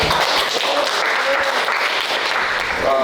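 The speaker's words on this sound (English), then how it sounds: "Let's clap it up for that." Steady applause from an arena concert crowd, dense and continuous clapping filling the whole stretch without a break.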